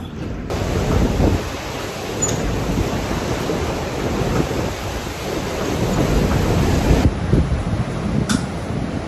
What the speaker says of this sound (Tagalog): Ang sobrang lakas na bagyo.